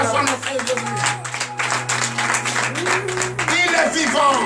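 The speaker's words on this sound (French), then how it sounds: "Donnez l'acclamation à notre Jésus." A church congregation applauds during a morning prayer service in Benin. Scattered clapping bursts mix with raised voices and a sustained droning tone beneath.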